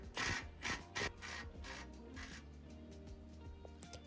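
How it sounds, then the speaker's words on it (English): A 12 mm socket ratchet tightens the rear mounting bolts of an OEM TRD skid plate on a third-generation Toyota Tacoma pickup. It produces a few short, faint clicking bursts followed by quieter mechanical rubbing. "Starting on the aft side with a 12mm socket, we're going to tighten up the aft 2 mounting bolts."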